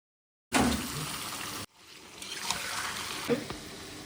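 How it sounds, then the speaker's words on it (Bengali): Food rinsed under running water in a sink, a splashing broadband wash cut briefly then resuming with trickling and a few louder splashes, close by. "4-5 বার জল দিয়ে ভালো করে ধুয়ে নিলাম"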